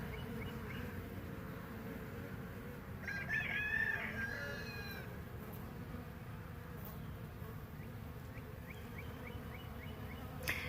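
Honey bees from a freshly retrieved swarm hum in a steady, faint, continuous drone, with brief bird chirps and a crowing rooster faintly in the background.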